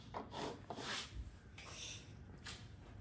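Sharpie marker scraping and rubbing around a hole in a panel while fitting a frunk kit to a VW ID.4, with several short scratchy strokes close up, no talk.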